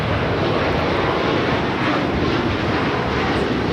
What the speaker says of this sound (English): Qatar Airways 740 taking off to Doha on the A350 1000.